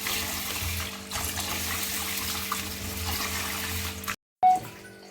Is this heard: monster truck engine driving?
no